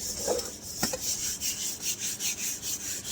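Burnt iron wok scrubbed with sand and amchur powder paste, a rhythmic gritty rubbing in short repeated strokes, close and fairly loud, no talking.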